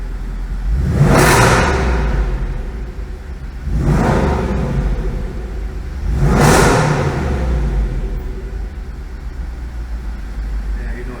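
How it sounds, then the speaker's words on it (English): A 2019 Jaguar F-Pace SVR engine in dynamic mode revs hard three times, each burst swelling into a loud exhaust roar and fading back to a steady idle rumble. "We've got it in dynamic mode, so we're gonna hear a little more of the pipes."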